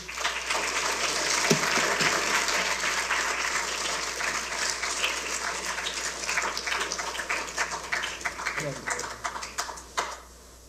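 An audience applauds a speaker coming to the podium at a lecture, dense steady clapping from many hands that fills the room and fades out at the end.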